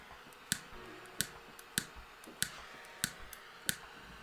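A butane lighter that has run out of fuel clicks six times in a steady, evenly spaced rhythm, each sharp, close click failing to light, with quiet room noise between.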